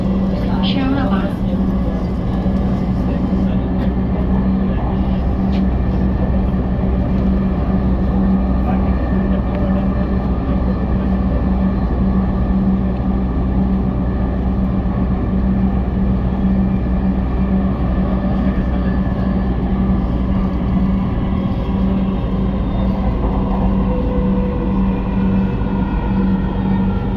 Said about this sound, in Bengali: This train is bound for Uttara Uttar. Next station is Shewrapara.